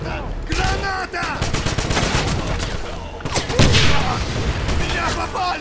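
Grenade explosion and heavy gunfire in the shooter game Wolfenstein, a loud burst of rapid shots with a big blast midway, continuous combat noise throughout with someone shouting over it.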